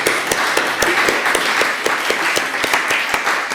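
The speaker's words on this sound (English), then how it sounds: "So a big round of applause for answering so well." A lecture audience applauds steadily for a few seconds, the clapping dense and even from start to finish.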